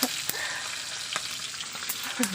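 Steady crackling sizzle of tilapia frying in a pan, with a few sharp clicks and scrapes over the hiss.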